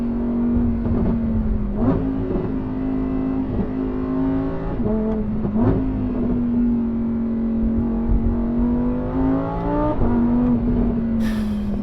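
A Lamborghini Huracan Sterrato V10 in sport mode heard from the cabin, a steady droning engine note swelling and easing with throttle, rising in pitch toward the end, moderately loud with no talk.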